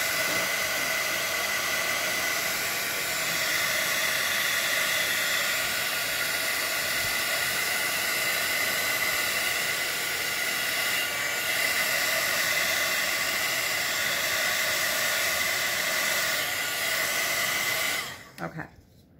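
A heat tool blowing on a stamped watercolor nature card, giving a loud, steady, close whooshing hiss that runs without a break for most of the time and then cuts off abruptly at the end.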